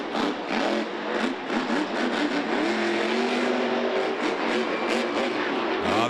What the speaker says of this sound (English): there's nothing else sounds like Dennis Anderson and Gravedigger hitting that throttle